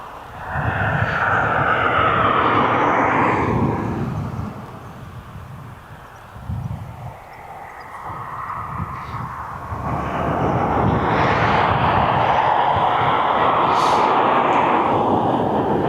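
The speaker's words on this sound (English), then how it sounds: "the Bombardier's taxiing out" A Bombardier airliner taxiing out at East Midlands Airport, a loud sustained jet engine roar that dips in the middle and then swells again, heard alone without talk.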